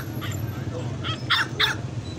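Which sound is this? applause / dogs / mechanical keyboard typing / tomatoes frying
dogs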